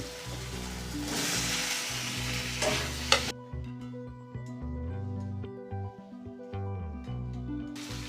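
Potatoes are dropped into a pan of sautéed spice masala and stirred, a loud burst of sizzling that quickly settles into a softer fry with scraping stirs and clatters over background music.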